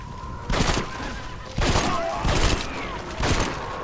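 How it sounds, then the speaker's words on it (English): Several loud bursts of gunfire from Red Dead Redemption: Undead Nightmare, striking the player's horse, come in about four separate volleys spread evenly across the moment, over a steady game hum with faint talk in between. "Oh, shoot, I shot my horse."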